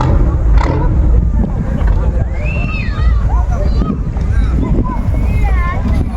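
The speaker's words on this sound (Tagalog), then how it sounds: "Kinukondisyon na ang makina." An engine being warmed up gives a steady, low, continuous rumble throughout, with a person talking over it and some wind-like noise.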